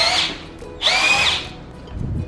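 Xenon CDID707 cordless impact drill running in gear 1, two short whirring bursts up close, each spinning up and winding down, with a low thump at the end.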